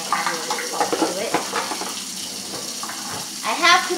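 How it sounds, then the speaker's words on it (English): Water runs from a kitchen sink tap into a cooking pot, an uneven splashing and trickling stream with clinks and light clatter near the end. "so we're filling up the water from the sink, just from the sink"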